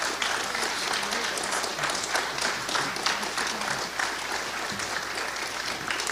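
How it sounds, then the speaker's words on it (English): A crowd at a celebration of life claps steadily and loudly, sustained applause filling the room from start to finish. "If you don't get on your feet and clap your hands for Rudy McGann"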